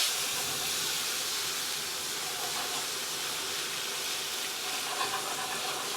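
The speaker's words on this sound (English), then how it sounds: "Hear that start to sizzle with our T-bone" T-bone steak sizzling in a hot pan, a steady, soft, even hiss with no other sounds over it.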